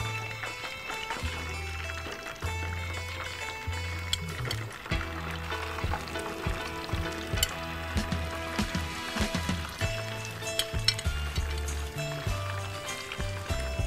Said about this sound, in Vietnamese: Chúng ta chiên chả giò thì phải cho dầu ngập để cho cái hai mặt của chả giò đều vàng vàng và giòn hơn.